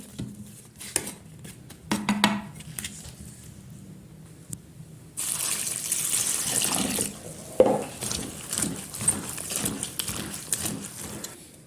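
Running water splashes steadily into a kitchen sink as leeks are rinsed, with occasional clinks of dishes; no talking.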